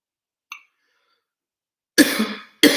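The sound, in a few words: cough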